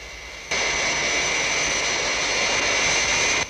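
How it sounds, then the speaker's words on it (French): Aircraft engine roar of a plane approaching a base, starting abruptly after a brief quiet and holding loud and steady with a high whine, no voices. "Il y a un avion qui va se présenter."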